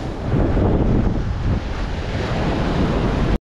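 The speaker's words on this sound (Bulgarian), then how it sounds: "Морето е бурно малко днеска." Rough surf crashes and churns continuously off Thassos island, loud and close, with heavy wind buffeting the microphone throughout before it cuts off abruptly.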